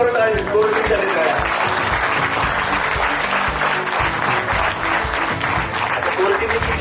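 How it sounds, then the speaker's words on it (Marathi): Loud, sustained applause from a large audience at a training conference bonding session, dense clapping filling the whole stretch with voices mixed in. "जोरदार टाळ्या वाजवा, जोरदार टाळ्या वाजवा"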